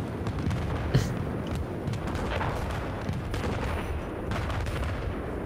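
Sniper rifle fire and other gunfire in the video game Battlefield 4 sounds as sharp reports over a dense, rumbling battle din of distant shots and blasts, with one stronger crack standing out early on.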